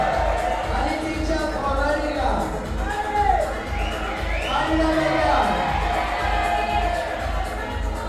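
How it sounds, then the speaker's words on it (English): A crowd cheers on a climber during the men's lead climbing final at an international competition, a sustained roar with whoops and shouts, while a commentator speaks over it. "crowd really getting behind him."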